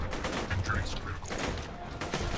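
Gunfire in the Borderlands 2 video game, a quick burst of shots with a clatter of reports, moderately loud and close, mixed with other game sound and no clear talk.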